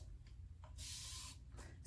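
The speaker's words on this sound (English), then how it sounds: "It's a continuous spray. No more pump, pump, pump, pump, and just pump it, let it spray, and be done." Continuous-mist spray bottle sprays water onto hair, two longer bursts of fine hissing with a brief one at the end, close and fairly quiet.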